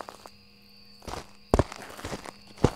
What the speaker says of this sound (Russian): шаги слышишь. Шаги есть